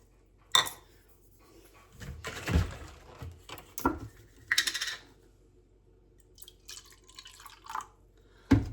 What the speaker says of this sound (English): So I'm going to take about an ounce of my syrup, put that in there.